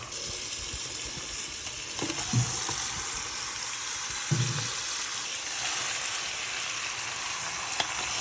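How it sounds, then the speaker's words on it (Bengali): Meat goes into a pan of onions browned in oil, setting off a steady, fairly quiet sizzle with a few soft thuds and stirring knocks, and nobody talks. "আর এইদিকে আমি পেঁয়াজটা একটু ব্রাউন কালার করে নিতেছি। এখন দিয়ে দিব আমি এখানের মধ্যে মাংস।"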